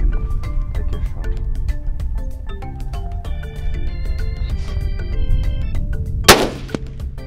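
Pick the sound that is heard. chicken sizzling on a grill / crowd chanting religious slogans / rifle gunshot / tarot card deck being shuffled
rifle gunshot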